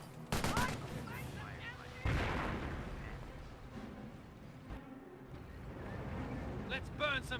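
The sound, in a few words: gunfire in the video game Company of Heroes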